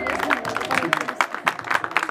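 Applause for mariachi performers at a birthday celebration, a steady wash of clapping from a crowd with loud accents, mixed with voices throughout.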